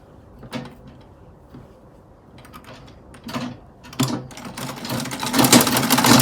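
A sewing machine stitching an Ankara gown with a 1 inch seam allowance: a few short whirring bursts with pauses, then a longer continuous run that grows louder and steadier.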